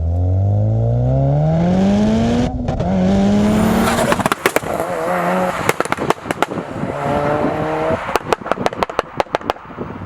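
Mitsubishi Lancer Evolution 6 RS rally car on the move, engine revving and climbing through gears with a rising whine, then sharp pops and crackles from the exhaust, loud and close from inside the car.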